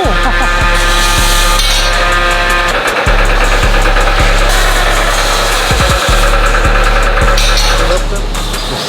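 A car engine with a newly installed cam kit and a Corsa exhaust runs close by, a loud, continuous, lumpy rumble with repeated throttle blips. People talk over it.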